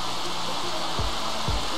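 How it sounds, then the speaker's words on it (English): Rain in The Sims 3 pours as a continuous hiss, with two low thumping footfall-like knocks in the short stretch. "I really wish it would stop raining."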